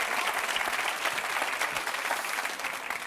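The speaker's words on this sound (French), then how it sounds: "Allez-y, on les applaudit fort." A TV game-show studio audience claps loudly for contestants in a dense, sustained burst that holds steady throughout.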